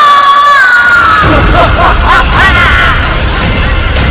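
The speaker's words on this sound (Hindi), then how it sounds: "ये मोनिका की चीख थी ना?" A woman's scream of horror in a tense drama scene, loud and sustained, its high wavering cry falling in pitch before giving way to a broad roaring wash of noise that fills the rest of the moment.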